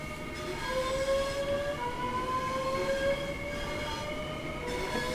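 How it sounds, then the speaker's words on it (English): Regenerative brakes on a Southeastern high-speed electric train in Train Sim World 3: a loud, steady electric whine of several tones that slowly shift in pitch, over a continuous rolling rumble. "I'm going to get the regen brakes on because let's treat anyone who hasn't heard this before"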